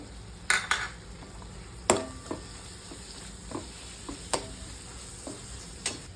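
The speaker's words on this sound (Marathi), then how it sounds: "आता ह्याच्यात पनीर घालूया आणि एक 5-6 मिनिटं परतून घेऊया" Paneer bhurji with coriander sizzles softly in a pan as a spoon scrapes and clinks against the metal in scattered sharp knocks, the frying hiss low and steady beneath the irregular stirring.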